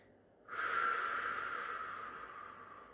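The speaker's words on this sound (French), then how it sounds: "je vais tout souffler" A forceful breathy exhale during a breathing and apnea exercise, a sudden loud hiss of air that starts abruptly and fades slowly as the lungs empty, close and alone.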